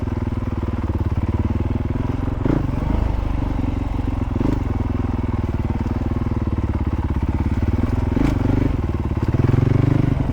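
A Honda CRF450RL dirt bike rides a forest trail in Beartown State Forest, western Massachusetts, its single-cylinder engine droning close and steady with rough throttle surges and occasional knocks from the terrain.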